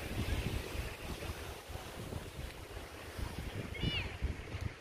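Sea waves rolling in with strong wind buffeting the microphone on a beach near Rabat, a steady loud roar of surf and gusts, close and continuous, with a faint bird-like chirp near the end.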